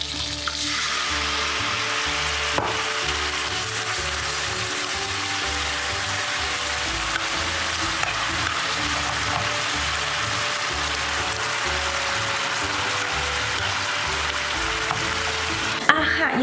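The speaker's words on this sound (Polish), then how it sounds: "Teraz na tym etapie dodam mój syrop cukrowy. Aha, i uwaga, ponieważ to będzie dość mocno skwierczyć" Sugar syrup poured into a hot pan of caramelizing nuts with coconut oil, giving a steady, close sizzle and crackle with some stirring, lasting throughout with no talk.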